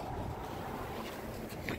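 Steady outdoor wind buffets the microphone in cold, gusty weather beside a Yamaha RX50 motorcycle, a constant broadband rush filling the whole stretch with no words spoken.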